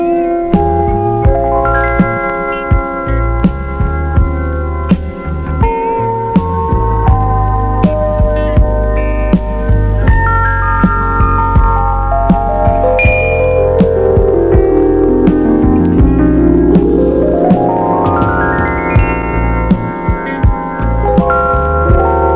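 A Fender Rhodes electric piano plays with its sustain pedal held down, so its bell-like tones overlap and keep ringing in a thick, continuous wash that swells and pulses, loud and close with no voices.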